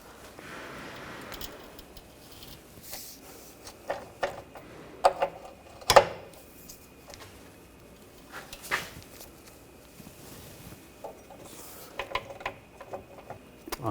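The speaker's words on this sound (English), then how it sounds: "using a 18mm wrench on the bolts, 24mm socket. You want to loosen this up" Someone loosens the rear wheel bearing bolts on a 2007-2013 BMW X5 with an 18mm wrench and a 24mm socket. Sparse metallic clicks, ratcheting ticks and an occasional sharp clunk sound nearby, quiet between bursts.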